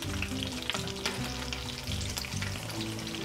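Beef and potato flautas fry steadily in hot oil with a constant close sizzle and bubbling, with soft clinks as they are turned over in the pan.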